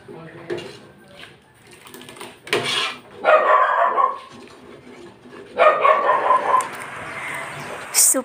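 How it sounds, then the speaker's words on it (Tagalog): A dog barks in short bursts, a couple of sharp yaps followed by longer excited barking, fairly close, with quieter gaps between. "Super tahol-tahol ng aso."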